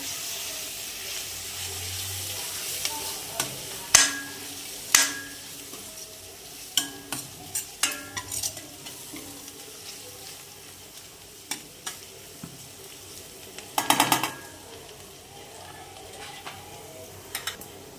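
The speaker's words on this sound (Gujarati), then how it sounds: "ડુંગળી આપણી ફ્રાય થાય છે હવે આપણે એમાં લીલા મરચાંની જે પેસ્ટ કરીને રાખેલી છે એ ઉમેરી દઈશું સરસ મિક્સ કરી લઈએ" Onions frying in a pan with green chili paste stirred in, for a dal palak khichdi: a low steady sizzle broken by scattered utensil scrapes and clinks, with a louder burst of stirring partway through.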